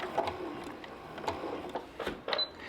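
A home sewing machine stitches the edges of fabric pieces for a chain-link quilt block's partial seams, sounding as a quiet, close mechanical whir with short ticking bursts and a brief higher whine near the end.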